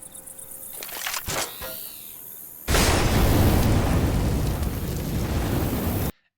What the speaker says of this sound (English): there's 2 good gas can placements. The first one I like to put right underneath here